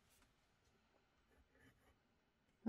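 An ink pen loaded with Sennelier ink scratches across sketchbook paper in a few soft, faint strokes, quiet and close, ending with a sudden louder knock.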